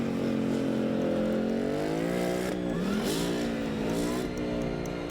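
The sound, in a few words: tuned American muscle car engines revving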